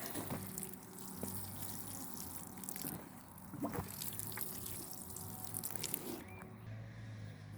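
Warm water trickles and splashes from a watering can onto zucchini plants in a vegetable garden, a soft continuous flow with small drips and knocks, fairly close and with no speech.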